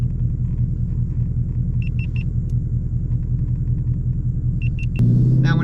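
Interior of a car being driven with a manual transmission, engine rumbling steadily and loud throughout, with the pitch jumping and growing harsher near the end as the revs change around a gear shift.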